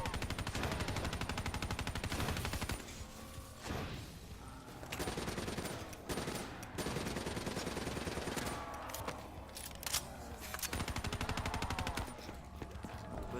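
Rapid automatic gunfire in a video game, dense bursts of shots filling most of the stretch with short pauses, loud and continuous, without talk over it.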